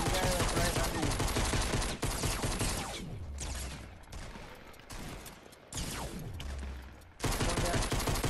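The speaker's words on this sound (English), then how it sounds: "Oh god! I'm being shot at." Rapid gunfire in a Fortnite match at Tilted Towers, loud dense bursts of automatic shots broken by short pauses and a couple of sharp reload-like gaps, with occasional booming impacts.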